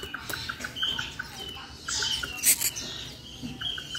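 A white starling chick chirps in rapid, evenly spaced high peeps, with short bursts of rustling and scraping from handling as it is uncovered in a basket.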